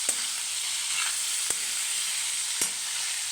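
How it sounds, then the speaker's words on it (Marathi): Cabbage and cauliflower fry in a pan with a steady bright sizzle as a little coriander is stirred in, with a few sharp spoon scrapes standing out over the hiss; no one speaks. "आपले कोथिंबीर राहिली होती थोडीशी कोथिंबीर टाकली मिक्स करून घेऊ"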